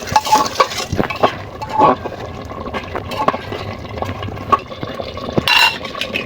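Cut potatoes drop into a pot of simmering beef for biryani, with wet plops, clinks of utensil on metal and stirring noises in scattered bursts, close and moderately loud.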